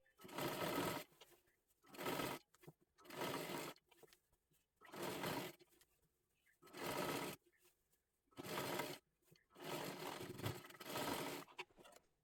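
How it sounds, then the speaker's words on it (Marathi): An electric sewing machine stitches a double seam around the hem of a girl's one-piece dress in bursts of rapid mechanical chatter, roughly eight runs of one to two seconds each, separated by short pauses. "पूर्ण घेरला परत एकदा डबल शिलाई मारून घ्यायची आहे."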